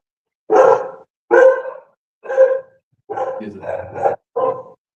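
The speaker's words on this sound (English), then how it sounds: "Is that my dog?" A dog barks six times in a row, loud and fairly close, in short separated yelps with whimper-like tones at the end, with no talk over them.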